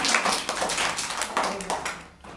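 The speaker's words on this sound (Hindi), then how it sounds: "ताली बजाओ।" Schoolchildren clap together at a primary school, a short burst of rapid, uneven hand claps, fairly close and loud, fading toward the end.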